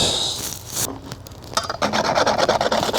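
A Scotch pad rubs the backside of a fabricated metal fuel filler panel, giving short bursts of dry, rasping scrapes close up, with rapid back-and-forth strokes in the latter half.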